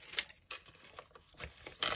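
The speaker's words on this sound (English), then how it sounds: "keys," Keys handled while packing a small Balenciaga Hourglass XS handbag give quiet, scattered metallic jingles and soft rustles, close by, with no one talking.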